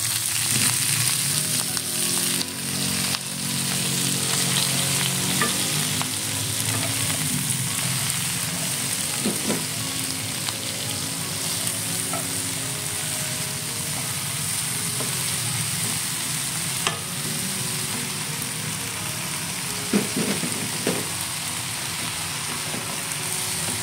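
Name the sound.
chopped mustard greens frying in a pan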